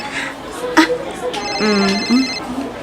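A cellphone ringtone plays as a bright, steady electronic melody, heard over voices and background chatter in an indoor comedy scene.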